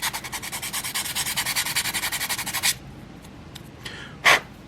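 Rhythmic sanding strokes against excess plastic on an AMT 1:6 scale STAP and Battle Droid model kit, about twenty quick, even rubs close up for nearly three seconds, then quiet with a couple of faint scrapes and one brief louder rub.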